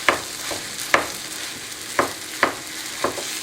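Lean ground beef browns in a pan with onions and garlic, a steady sizzle with a spatula scraping and breaking the meat in several sharp strokes.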